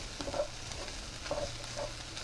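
A big spoon stirs and scrapes chicken fried rice around a hot pan, soft sizzling under a few distinct scraping strokes over two seconds, close and without speech.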